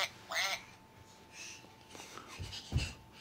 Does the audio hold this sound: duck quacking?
yes